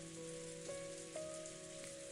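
Steady rain falls on a rose garden in the visual novel Umineko, a constant even hiss with a sustained low tonal hum beneath it and a couple of faint chime-like accents.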